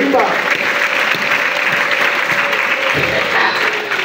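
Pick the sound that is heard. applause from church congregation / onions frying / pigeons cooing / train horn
applause from church congregation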